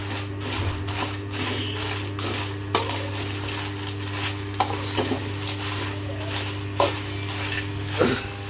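Green chillies fry in a home kitchen pan with a steady low hum underneath, while a spatula stirs them and scrapes the metal in several sharp clinks spread across the clip.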